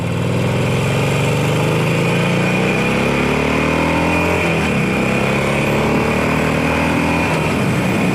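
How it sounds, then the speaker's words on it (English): A Harley motorcycle engine rumbles loud and close, revving gradually with rising and falling pitch over a continuous throaty idle, alone without voices. "Kind of accelerate, rev slowly."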